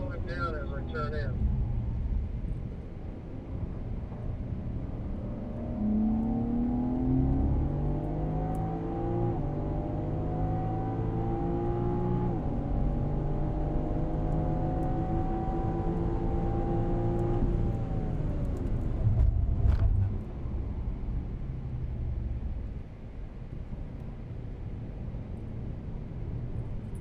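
BMW car engine at speed on the COTA race track, a steady loud drone with rising and falling pitch as it eases off and rolls back on the throttle through the corners, with someone talking over it throughout.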